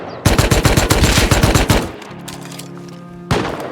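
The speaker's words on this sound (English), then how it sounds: "Managed to get a fairly decent headshot on him." Rapid automatic gunfire from the video game Rust, a loud close burst of about a dozen shots over roughly a second and a half, followed by a quieter hum and one more sharp shot.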